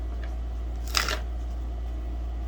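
Tarot cards get one short riffle shuffle near the middle of a quiet stretch, heard over a steady low hum.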